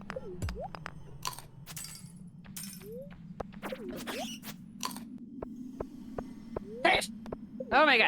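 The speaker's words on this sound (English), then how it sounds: "stop sneezing" A person sneezes once, sharply, while playing a Stardew Valley co-op farm game, with chatter and scattered game sound effects around it.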